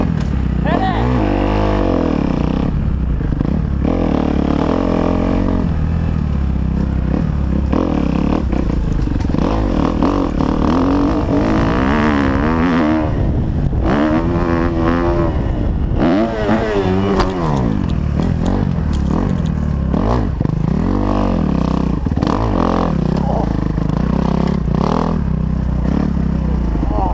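A dirt bike engine revs hard while riding over rough ground toward a jump, rising and falling in loud close bursts with rattles and scrapes, and voices break in now and then.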